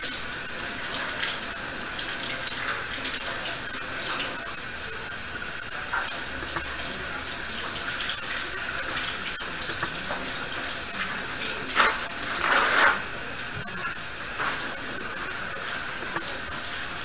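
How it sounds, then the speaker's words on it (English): Tap water runs steadily into a sink while hands are rinsed and scrubbed free of soap during a kids' cooking lesson. A loud, continuous hiss lasts the whole time, with faint shifts as the hands move under the stream. "you're going to run them underneath the water and make sure to get all the soap off while scrubbing them together"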